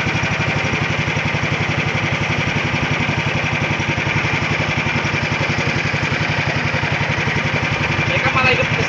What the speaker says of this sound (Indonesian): Mereka malah hidup mesin, malah mesin panas.